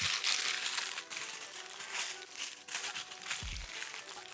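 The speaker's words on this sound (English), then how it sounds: "We'll wrap it up in the foil." Aluminium foil wrapped around a breakfast burrito crinkles and crackles almost continuously, close and bright, with a brief low thump near the end as the package is set down.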